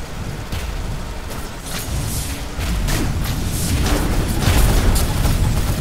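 Shotgun blasts in the online shooter Gear Up, dense overlapping booms and bursts rolling through steady game noise for several seconds, loud and close with no clear gaps between shots.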